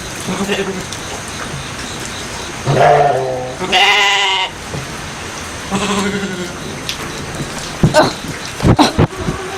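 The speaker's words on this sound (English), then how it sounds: "Nosy little goats don't climb on me." Goats bleat several times nearby, loud wavering cries over a steady hiss of hurricane rain, with a person talking and some knocking.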